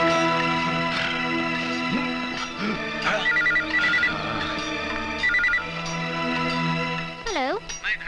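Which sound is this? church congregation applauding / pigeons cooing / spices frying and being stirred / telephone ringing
telephone ringing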